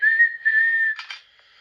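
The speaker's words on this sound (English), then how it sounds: "Then he heard a whistle." A clear, steady whistle holds one high pitch for about a second, then breaks into two short bursts before fading.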